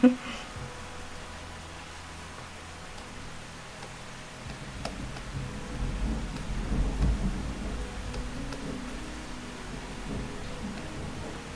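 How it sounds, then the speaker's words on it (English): Heavy rain pours outside an open balcony door, a steady hiss of falling water with a low thunder rumble swelling midway, heard from indoors at moderate loudness. "You're probably hearing the rain, because it is very loud."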